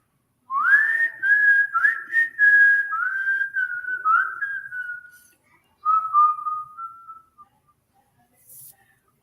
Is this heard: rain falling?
no